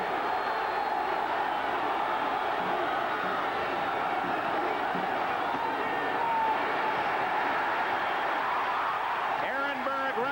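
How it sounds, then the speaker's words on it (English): A large stadium crowd in Cleveland roars at a 1984 Browns–Steelers NFL football game, keeping up a dense, steady wall of noise throughout with no break or lull. "this crowd in Cleveland trying to do all it can to help"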